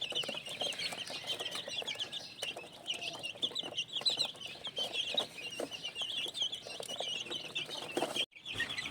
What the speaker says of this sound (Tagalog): Itong mga sisiw na ito yung nakalagay sa brooder